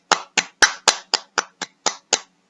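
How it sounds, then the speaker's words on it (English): Nine sharp, separate hand claps in a classroom phonics lesson, each a crisp loud crack with a short decay, spaced at a fairly even pace with brief silences between them. "Right, this is called a clap."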